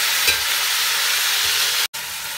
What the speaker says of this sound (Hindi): तो अब हम इसमें टमाटर डाल देंगे।